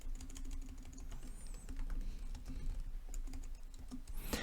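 Quick typing on a computer keyboard in a quiet room, a run of light close key clicks with a faint steady hum underneath and no talk.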